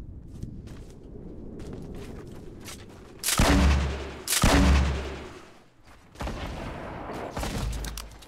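Bursts of gunfire in a video game: two sharp, loud volleys close together, a brief lull, then another sustained burst, with quieter background game noise between.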